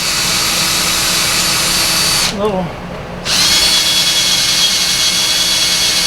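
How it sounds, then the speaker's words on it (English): Power tool running a 3/8 fine thread tap through the threaded holes of a brake rotor, a loud steady whine that cuts out briefly near the middle as a voice speaks, then resumes. "now we're just running a 3/8 fine thread tap through her, cleaning the thread holes out"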